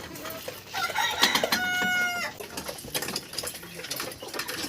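A hen of the world's largest chicken breed gives a burst of loud, close, drawn-out clucking calls near the start, then quieter scattered clucks over a noisy yard.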